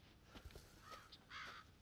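Crows caw in a few short, somewhat distant calls over a quiet ambient bed in the survival horror game Resident Evil 7, with faint footstep-like thuds early on.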